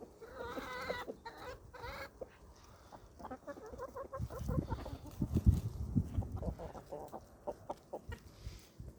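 Chickens cluck and chatter steadily at close range, with a few louder rooster calls rising out of the flock's busy murmur.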